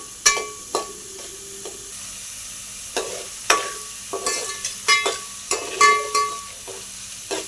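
Onions sauté in a pan for cheesy masala macaroni: a quiet sizzle runs throughout, punctuated by repeated sharp taps and scrapes of a spatula stirring at an irregular rhythm, with no voices.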